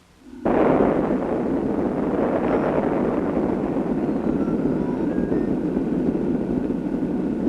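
A deep, sustained rumbling roar from the atomic bomb explosion over Hiroshima in archival footage, starting abruptly and holding loud and steady without fading.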